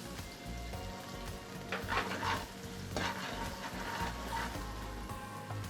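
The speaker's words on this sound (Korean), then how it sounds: "대파를 넣고 볶아주세요 타지 않게 파기름이 나게끔" Green onion and chili flakes stir-frying in oil in a pan for jjamppong ramen, a soft steady sizzle with intermittent stirring scrapes, close but fairly quiet, no talking.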